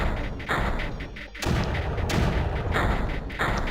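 Mortars firing in the strategy game Creeper World, a run of dull booming thumps and blasts in quick succession with a brief lull, loud and dense throughout.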